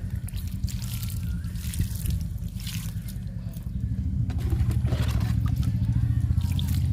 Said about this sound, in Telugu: గినుసుగడ్డకి వాటర్ ఇచ్చేద్దాము